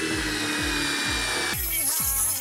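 Power drill fitted with a wood bit boring into a pergola post outdoors, a loud close grinding whir with repeated rhythmic bursts as the bit is worked, rising to a harsher, brighter pitch near the end.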